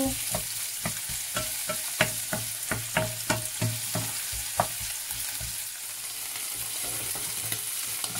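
Onions and garlic sizzle in a hot pan while being stirred, a steady frying hiss broken by a series of sharp utensil scrapes and taps against the pan at an uneven rhythm, close up with no talking.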